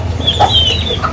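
Chickens being fed soaked millet cluck loudly and close by in a quick burst of short, excited calls.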